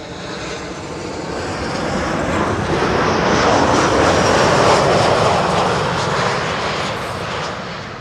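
A Tarom Boeing 737 arriving from Bucharest lands at Schiphol, its engine roar loud and close, swelling to a peak mid-pass and easing off again with no voices over it.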